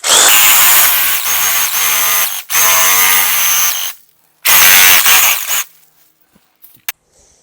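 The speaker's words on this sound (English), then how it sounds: "I'm going to take this long branch, it's kind of bigger, so I'm going to use a" Sawzall reciprocating saw cutting a thick, long tree branch during fall pruning: a loud, close, buzzing burst of cutting, a short pause, a second burst, then quiet with a few small knocks.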